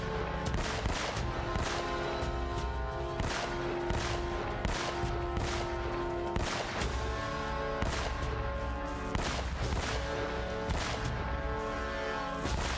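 Gunfire from the video game Uncharted: Drake's Fortune, with rapid bursts of loud shots repeating throughout, dense and continuous over a layer of game music.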